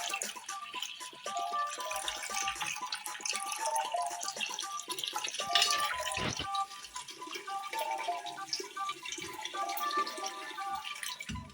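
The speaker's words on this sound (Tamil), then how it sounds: "இது மூழ்கிற அளவு தண்ணி ஊற்றிக்கலாம்" Water is poured into a pot of salted tapioca root, a continuous splashing and trickling with small drips and clinks of the pot, moderately close, with no speech.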